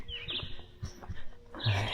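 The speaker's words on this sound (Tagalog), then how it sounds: "Mga huni ng ibon yung maririnig mo." Birds chirp at a lakeside campsite at dawn: a few quiet, high tweets come early and again near the end over a faint, soft background.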